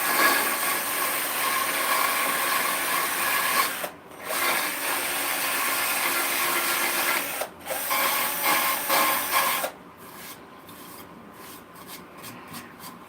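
Steady, dry abrasive rubbing while hand-sanding a wooden bowl, continuous with two brief pauses, then shorter broken strokes toward the end.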